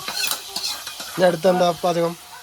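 Chicken is stir-fried in a pan at home on a festival day, with close scraping and sizzling strokes; a tonal, whine-like sound rises over the middle part, then the stirring continues.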